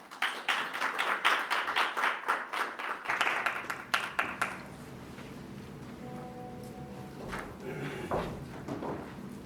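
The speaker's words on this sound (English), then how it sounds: "So please give him a round of applause." Audience at a report launch on safeguarding female journalists online claps steadily for several seconds, then the applause fades into quiet room noise and a few faint voices.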